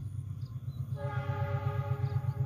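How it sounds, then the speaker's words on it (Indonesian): A passing train rumbles steadily, with a sustained horn-like tone joining partway through, heard from a moderate distance near a toll road construction site. "Ini ada kereta yang melintas"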